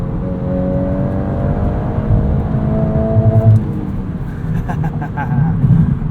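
A 2022 Volkswagen Golf R with a six-speed manual in drift mode, its engine droning steadily and climbing toward the rev limiter, with a brief bouncing stutter near the top of the revs, under a driver's talk.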